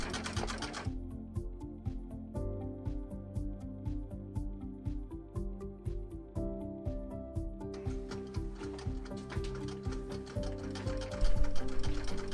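An antique Singer 27 treadle sewing machine running after a clunk repair, worked by treadle, gives a rapid, even mechanical ticking and clatter that goes on steadily and grows a little louder toward the end, with no voices.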